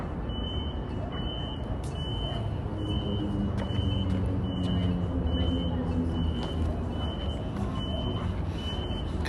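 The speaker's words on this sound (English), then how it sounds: "Kind of sounds like the beeping from a car parking garage" Regular electronic beeping repeating about once a second, like a car parking garage alert, heard downtown at night over a steady rumble of traffic and vehicle noise.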